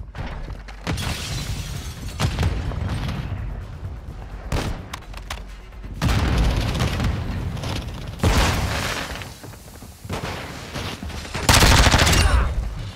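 A Modern Warfare II search-and-destroy match brings repeated heavy blasts, shattering crashes and rattling bursts of gunfire in loud, uneven waves, with a strong explosion near the end.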